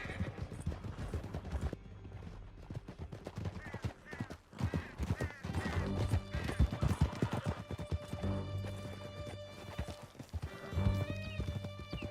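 Horses galloping in Red Dead Redemption 2, rapid rhythmic hoofbeats with neighs and whinnies, mixed with crashes and music as riders race through a canyon.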